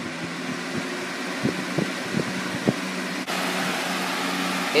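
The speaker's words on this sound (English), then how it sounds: "It's very noisy on high speed, but it blows a lot of air." Loud, steady rushing drone of a Lasko 3733 20-inch box fan on high speed, with a few soft knocks early on and the whoosh growing slightly fuller after a brief dip partway through.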